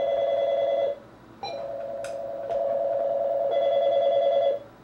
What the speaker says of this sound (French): Ah, je crois qu'on a un appel, la ligne sonne